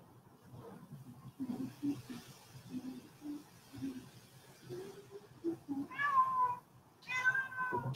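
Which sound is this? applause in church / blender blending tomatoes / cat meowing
cat meowing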